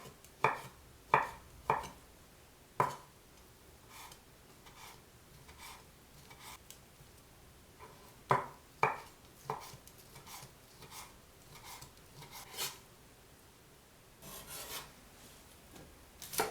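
A knife chops mushrooms into small cubes for vegan dumpling filling, giving a series of sharp, close cuts on a board in bursts, busy at first, then sparser rasping cuts with a quieter stretch midway.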